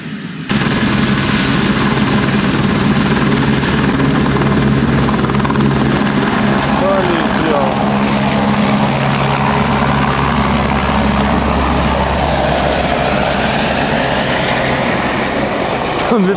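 A helicopter lifts off and flies over the Samarga River in autumn, its loud, steady rotor and engine roar filling the whole stretch while people talk over it.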